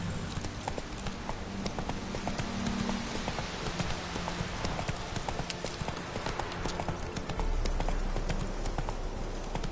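Roach, a horse in The Witcher 3, trots with a steady, close clip-clop of hooves over a dense ambient background, heavier and louder near the end.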